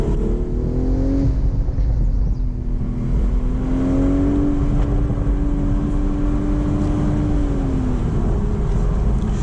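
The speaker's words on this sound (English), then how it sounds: "That's one of the few spots that we're actually hearing the exhaust." 2025 BMW Z4 M40i with manual transmission being driven, its exhaust a steady droning engine tone that rises in pitch as revs climb and then drops back, heard from inside the car over road and wind noise.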